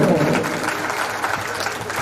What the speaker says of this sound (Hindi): अच्छा लगाओ तो बजा लो ताली जरा जोर से